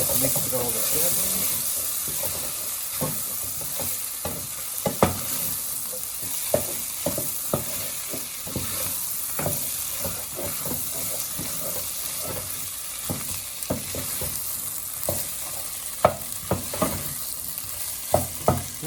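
Sausage and vegetable ragù stirred in a hot pan, a steady sizzle and hiss beneath frequent sharp scrapes and taps of the spoon against the pan, continuing at an uneven rhythm throughout.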